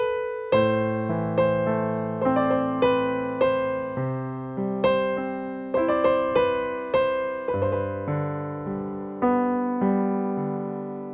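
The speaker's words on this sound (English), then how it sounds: "Okay, and with the left hand, it's gonna sound like this." Piano plays with the left hand joining in, low sustained bass notes under steady repeated upper notes, close and clear, each phrase ringing out, no talking.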